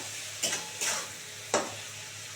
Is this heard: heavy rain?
no